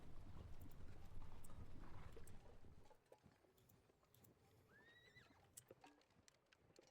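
Horses of horse artillery moving in a Napoleonic wargame: a dense, close clatter of clip-clopping hooves for about three seconds, then sparser scattered hoofbeats with a whinny rising out of them.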